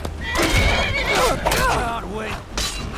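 A horse in the Skyrim video game whinnies loudly and repeatedly, with hoof clip-clop mixed in, close and prominent over game sounds and a speaking voice.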